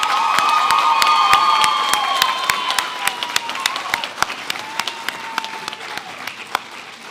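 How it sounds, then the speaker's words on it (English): School assembly audience applauding award winners at an arts and culture ceremony: dense, sustained clapping with cheers early on, thinning to sparse individual claps toward the end. "Please join me in applauding our winners."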